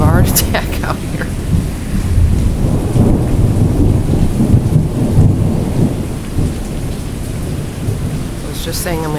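Heavy thunderstorm in Morris with a loud crack of thunder and rolling rumbles over constant pouring rain, punctuated by brief whooshes of wind and handling noise.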